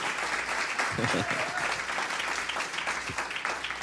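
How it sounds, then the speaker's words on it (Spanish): A church congregation applauds during a Spanish-language worship service, a steady wash of many hands clapping throughout, with a voice briefly rising above the applause near the middle. "¿Le puedo dar un aplauso al Señor, por favor?"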